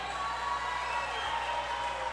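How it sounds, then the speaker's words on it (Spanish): An audience at a tango night at a culture and clothing fair applauds the dancers, a steady wash of clapping from a crowd that holds evenly throughout. "A ver, fuerte el aplauso para los bailarines."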